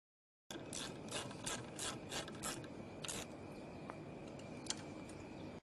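Ratcheting clicks and metallic rasping as a Land Rover Defender roof rack side ladder is locked down, a steady mechanical grind punctuated by bursts of faster ratchet strokes, close and fairly quiet.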